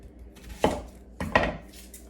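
A knife cuts through a red onion into wedges on a cutting board, giving two separate crisp chopping knocks about half a second apart, close and clear, with no talking.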